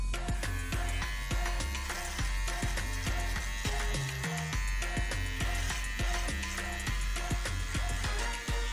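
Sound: electric razor shaving beard line on neck

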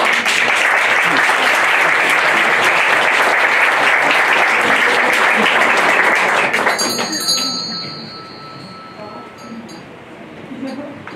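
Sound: theatre audience applause

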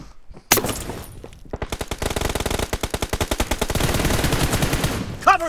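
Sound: gunfire from a shooting video game

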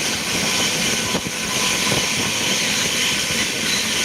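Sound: fast moving train

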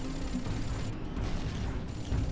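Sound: tank machine-gun fire in Rogue Trooper video game

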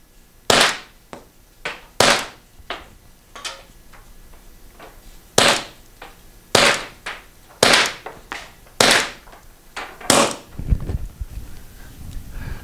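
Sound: Pepperball TCP launcher firing shots

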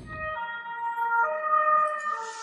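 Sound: ambulance siren passing outside

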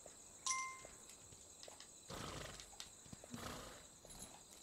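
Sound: horse in video game Kingdom Two Crowns Norse Lands

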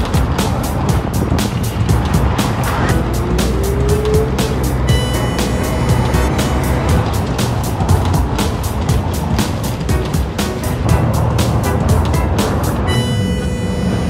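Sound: cars driving through a busy Paris roundabout

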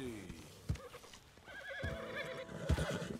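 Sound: horse neighing in video game Red Dead Redemption

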